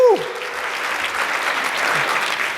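Big round of applause at a DCYF conference keynote, dense and steady clapping from a full audience holding for a few seconds, with a brief cheer and voice at the start.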